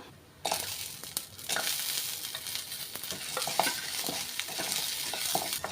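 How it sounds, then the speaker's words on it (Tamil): Lentils being dry-roasted with shallots, garlic and tomato in a pan, stirred with a close, continuous crackling scrape and light gritty rustling that starts abruptly and carries on steadily, no voices. "பருப்பெல்லாம் நல்லா பொறிச்சு எடுத்துக்கோங்க"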